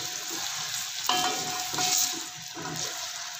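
Onions for chicken biryani sizzle and fry in a pan, a close steady hiss with a sharp stirring clatter partway through and brief bubbling surges, no talking.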